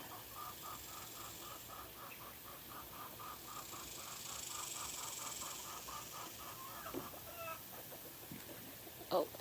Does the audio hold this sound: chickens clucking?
yes